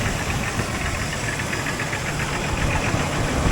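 A car engine with an aftermarket valve cover idles with a steady, rapid mechanical tapping running through a constant rumble, close and fairly loud, with no voices.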